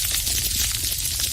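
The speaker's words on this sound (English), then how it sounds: "That's thousands and thousands of snapping shrimps, all clicking their claws as they scurry around inside corals and sponges." Underwater coral reef noise from thousands of snapping shrimps clicking their claws among corals and sponges: a dense, steady, sizzling crackle that fills the whole moment with no pauses.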